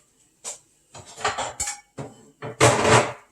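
Metal pot lids clatter and clink as they are picked up and set onto a pot in a home kitchen while orange chicken is being made: several separate bursts of handling, close and fairly loud, with no talking.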